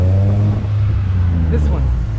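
Sporty car passing close by a cyclist on a downtown Chicago street, a steady low engine drone running through the moment with background traffic, a faint brief higher tone near the end.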